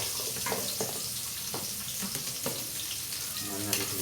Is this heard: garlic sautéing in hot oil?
yes